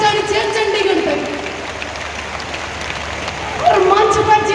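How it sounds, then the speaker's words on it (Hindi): A large crowd at a BJP political rally in Haryana claps loudly and continuously, a dense roar of hands that swells toward the end, while someone speaks over it through a loudspeaker. "तो एक बार जोरदार तालियां बजाइए भाई"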